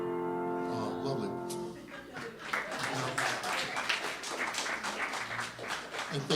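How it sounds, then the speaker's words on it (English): Crowd at a small blues gig claps after a short song. A voice holds a sung note at first, then warm, dense applause fills the room and continues steadily. "And thanks for applauding for that."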